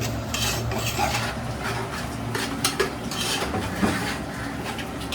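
Cashews and almonds roast in ghee while a spoon stirs them around a metal pan, giving repeated scraping and clinking over a soft background sizzle.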